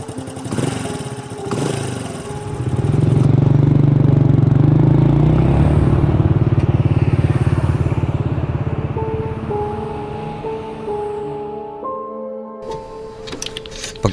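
A motorcycle engine revs up after a few knocks and clatters, then holds a loud, rough, steady drone while riding, easing off slightly before a sharp cut and a brief burst of mechanical noise at the end.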